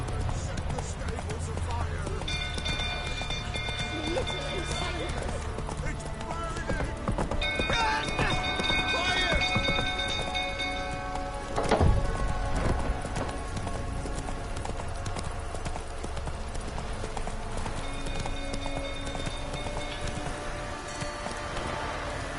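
Roach, a horse in the video game The Witcher 3, clip-clops at a run in Velen, a steady hoof rhythm under game music and ambience, with a louder thump near the middle and people talking over it.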